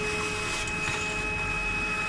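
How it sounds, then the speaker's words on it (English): A vacuum cleaner hoovers grit off outdoor stone steps before painting, a steady, even broadband whir that stays constant throughout with no voices. "He's hoovering all the grit before he paints the last few."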